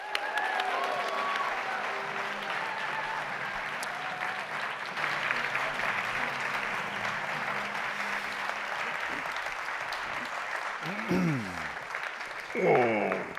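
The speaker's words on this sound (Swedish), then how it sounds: "Välkomna in nu, Alex Schulman och Jan Gio" Audience applause greeting guests as they come onstage at a Swedish author talk event, a steady full-room clapping throughout, with a few voices chattering near the end.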